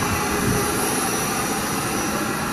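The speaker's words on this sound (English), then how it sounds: "They also have these engines here for the oxygenation of the water." A steady, loud mechanical drone of water aerator engines running continuously at a fish farm in Brazil, with a dense broadband roar and no pauses or speech.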